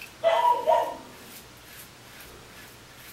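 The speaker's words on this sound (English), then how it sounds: "oh, sorry, there's my dog." A dog barks twice at a distance in a quiet room, short muffled yaps followed by stillness.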